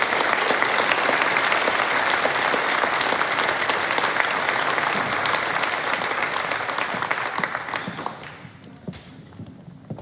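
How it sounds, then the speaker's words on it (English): A crowd claps loudly and continuously at a varsity sports award program, the applause slowly thinning and fading toward the end. "How about a round of applause for an outstanding group?"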